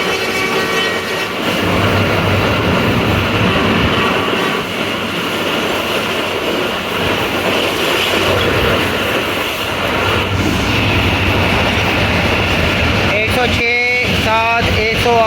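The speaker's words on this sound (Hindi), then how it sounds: "बड़ी ज़बरदस्त स्पीड पे गाड़ी जा रही है" Shalimar Express passenger train racing at high speed on the Faisalabad section in heavy rain, a loud continuous rumble and rushing roar with rail clatter throughout, sharp wheel squeals and flange whines near the end.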